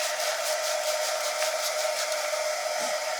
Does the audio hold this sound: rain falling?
no